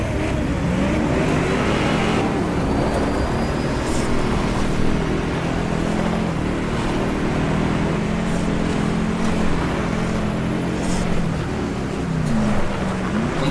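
A 4x4 car in the Baja Edge of Control racing game roars steadily throughout, engine droning and revving under continuous off-road rumble, loud and close with no pauses.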